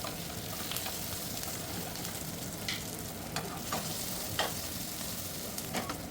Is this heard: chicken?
yes